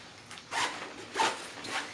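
A zipper on a gym bag pocket is pulled open in two quick rasping strokes, close and clear, with softer fabric rustling around them and no talking.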